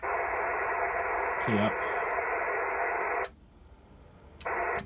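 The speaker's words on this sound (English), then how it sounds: "So you hear some signals there." HF radio signals picked up on a multiband doublet antenna in a small garden, a steady hissing band of received signal with a brief tone burst, dropping out near the end before returning; a voice speaks briefly.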